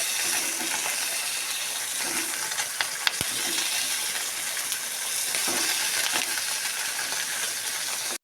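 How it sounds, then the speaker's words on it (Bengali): Parshe fish (mullet) fry in a pan with a constant bubbling sizzle, close and even, broken by a sharp metallic clink partway through. "এই পার্শে মাছগুলো ভাজা হচ্ছে"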